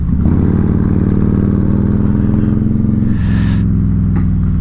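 Harley-Davidson with a Stage 2 107 engine cruises on a highway, a loud steady low rumble with engine pulses throughout, then a brief shift in tone and a faint clatter near the end.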